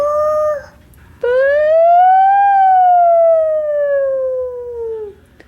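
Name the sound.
child imitating a fire engine siren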